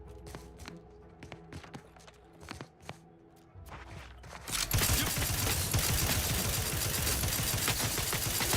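Sparse taps and footsteps give way to dense, sustained automatic gunfire in The Outer Worlds 2. The firing is loud and continuous to the end.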